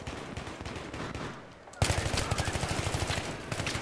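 Rapid automatic gunfire in Battlefield 3 on PC: loud, close, repeated rattling shots in a dense rhythm. A short lull is followed by a sharper, faster burst.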